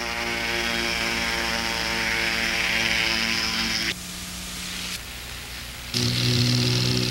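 A paramotor engine in powered flight drones steadily with a buzzing propeller roar, then abruptly drops in pitch and loudness as the throttle slides back toward idle, dips further briefly, and surges again near the end.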